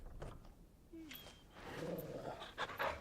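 A dog panting in the Final Fantasy 16 video game, quick breathy huffs rising toward the end over soft game ambience, with no voices over it.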